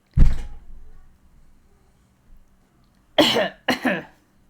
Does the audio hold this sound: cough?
yes